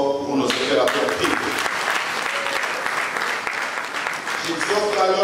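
An audience at a finance minister's speech claps loudly and steadily, dense applause swelling and holding for several seconds before tapering, with a voice speaking over the start and end.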